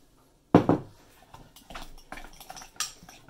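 Spoon scraping and clinking against a bowl while banana bread batter is mixed, a sharp clatter at first followed by irregular softer knocks and scrapes, close and without talk.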